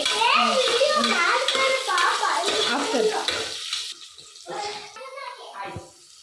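A spoon stirs chillies frying in oil in a pan, giving steady sizzling and scraping up close, while a voice talks over much of it before the sizzle thins out.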